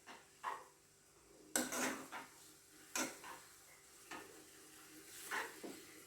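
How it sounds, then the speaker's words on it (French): Pasta stirred into a gorgonzola sauce in a pan: soft scraping and clinking of a utensil against the pan in irregular strokes, with a few sharper knocks, quiet and close with no talk. "Je rajoute les pâtes. Je mélange."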